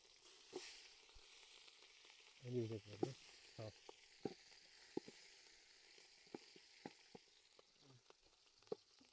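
Chicken sizzles softly in a pan, with scattered pops and crackles and a few clinks of stirring against a quiet background.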